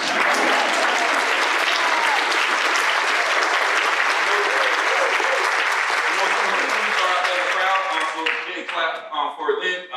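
An audience claps for the panel at an evening debate discussion event. Sustained, full applause fades out over the last couple of seconds as a voice begins speaking.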